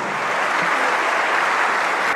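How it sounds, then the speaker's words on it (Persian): An audience claps loudly at the first annual music celebration concert, producing a dense and even wash of clapping that continues without a break for about two seconds. "یه دست قشنگ برای خودتون بزنید."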